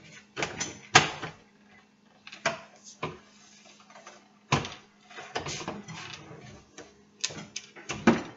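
A drawer slide on a Home Depot drawer being assembled clicks into place, a scatter of sharp plastic and metal clicks and knocks at close range, alone without talk.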